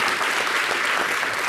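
A steady burst of applause from a crowd, dense and continuous clapping throughout with no voices standing out.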